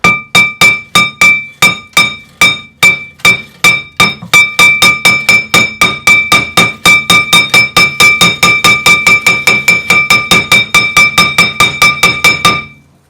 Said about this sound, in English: Let's just give it a tap.